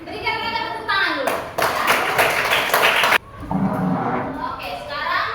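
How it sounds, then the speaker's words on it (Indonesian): A classroom of children claps for a group that has just presented its work: a burst of fast, crowded clapping for about two seconds, with children talking before and after it. "Berikan mereka tepuk tangan dulu."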